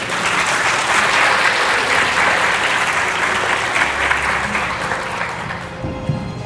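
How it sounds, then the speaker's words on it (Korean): Loud, sustained applause from a lecture audience at Hannam University, welcoming the speaker to the stage, a dense, continuous roar of clapping that thins slightly toward the end. "큰 박수로 환영해 주시기 바랍니다."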